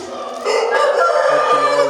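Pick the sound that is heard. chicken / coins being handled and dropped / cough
chicken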